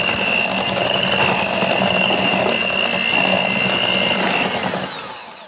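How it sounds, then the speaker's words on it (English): A hand mixer creams butter and sugar for pumpkin scones, giving a steady buzzing whir with a rattling, clattering texture that runs for about five seconds and fades slightly at the end, with no voices. "I'm going to do it with my hand mixer."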